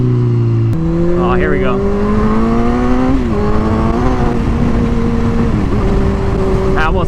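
A KTM RC390 motorcycle accelerates at half throttle, its engine note climbing steadily and loudly over about seven seconds, with a voice speaking briefly at the start.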